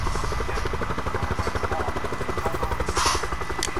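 Helicopter in Call of Duty: Black Ops 4, a steady loud rotor thump with a rapid pulsing chop and whining engine drone, heard close and continuous with no talk.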